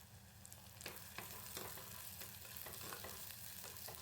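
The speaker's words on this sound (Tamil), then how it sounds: "இப்போ எல்லாத்தையும் நல்லா வதக்கி விட்டுக்கலாங்க." Onion, green chili and tomato sautéing in a pan for a village-style ghee fish dry fish thokku, with a steady close sizzle and repeated scraping stirs throughout.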